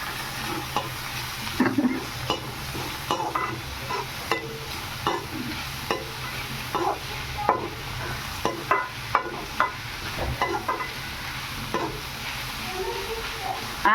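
Fresh green peas frying and being stirred in a pan, a steady sizzle under repeated scraping and clinking strokes of a spoon, close and moderately quiet.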